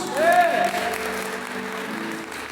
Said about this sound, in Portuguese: Você pode aplaudir Jesus?